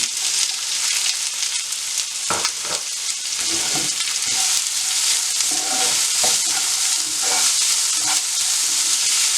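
Onion and green chillies sautéing in a pan make a steady, close sizzle of frying, broken by occasional scraping and stirring strokes of a utensil against the pan.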